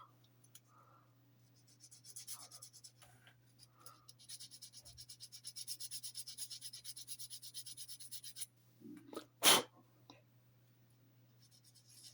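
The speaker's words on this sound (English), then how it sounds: "And with a bit of rough sandpaper" A plastic part from an Airfix Messerschmitt Bf 109G-6 model kit is rubbed with rough sandpaper, producing soft, rapid back-and-forth rasping strokes, quiet and close, followed by a brief louder knock near the end.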